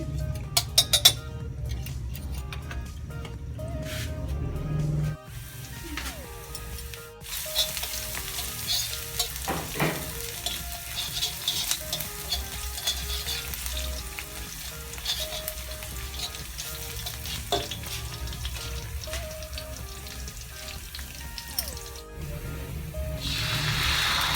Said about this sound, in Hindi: अब मैंने इसमें कढ़ाई में डाला है 2 खाने के चम्मच ऑयल और 1 खाने का चम्मच लहसुन। इसको करेंगे अच्छे से फ्राई।